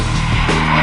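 Aston Martin DBS Volante skids through a drift on a slippery track, a brief loud blend of engine roar and tyre scrub.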